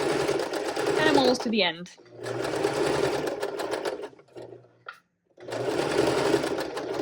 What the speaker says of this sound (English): we want to backstitch at the end of this seam and then just sew right off the edge of the fabric